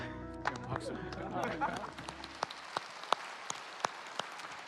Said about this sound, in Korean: 어서 오세요. 박수.